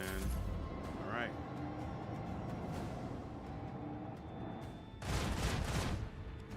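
Starship torpedoes firing in the game Rogue Trader, a burst of muffled explosive booms near the end after quieter rumbling combat sounds.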